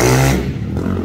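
A Honda FT 450 motorcycle built out to 470cc revs in a brief, close burst, its buzzy engine note dropping off quickly after the throttle blip.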